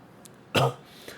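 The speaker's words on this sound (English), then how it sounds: "Oh man, why am I coughing now?" A single short, harsh cough or throat-clear bursts out once amid quiet room noise.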